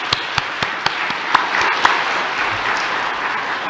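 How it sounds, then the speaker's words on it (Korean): A church congregation applauds the choir with a loud, dense wash of clapping, a few crisp individual claps standing out in a regular rhythm early on. "다시 한번 박수로 감사를 표해주시기 바랍니다."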